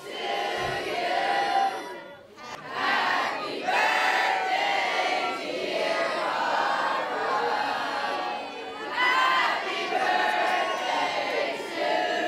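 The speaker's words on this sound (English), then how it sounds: "we're going to sing happy birthday to our birthday girl" A party crowd sings Happy Birthday together at a sweet 16 celebration, loud and close, with many voices blending into a sustained chorus that rises and dips between lines, ending in cheering.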